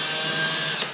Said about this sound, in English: I would then take a drill and go